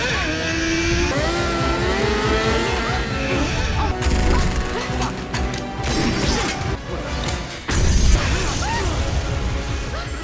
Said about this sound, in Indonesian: Selanjutnya Eric nekat membawa kabur Maddie dengan menggunakan sebuah motor untuk melompati jembatan yang putus dan inilah aksinya.